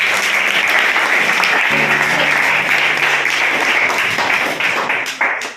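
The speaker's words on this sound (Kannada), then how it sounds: "ಚಪ್ಪಾಳೆಯಿಂದ ಸ್ವಾಗತಿಸೋಣ." A classroom of students clapping together for teams in a Kannada quiz, a burst of dense applause that holds steady for several seconds and then tapers away.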